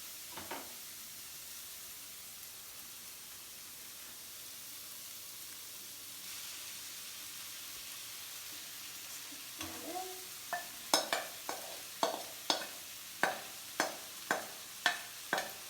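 Noodles and vegetables being stirred in a pan, starting with a faint steady sizzle, then a run of distinct scraping strokes repeating roughly every half second, close and moderately loud.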